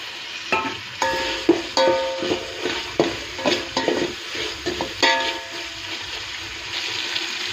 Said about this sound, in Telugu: టమాటో కాస్త ఫ్రై అవ్వనివ్వాలి.